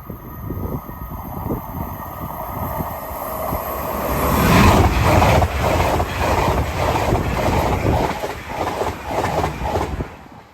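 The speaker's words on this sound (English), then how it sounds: "Next service pass through is a LNER service from Edinburgh Waverley to London King's Cross." An LNER passenger train from Edinburgh Waverley to London King's Cross passes Hett Mill level crossing, its rumble swelling as it nears, with rhythmic clickety-clack of wheels over the rails and a faint high squeal.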